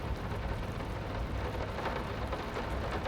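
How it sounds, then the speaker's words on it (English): Heavy rain pours down steadily in the horror game Layers of Fear, a dense, loud, unbroken hiss with no voices over it. "This rain gotta calm down, bro."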